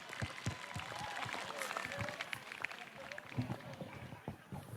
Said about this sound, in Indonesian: Terima kasih untuk tepuk tangan untuk kita semua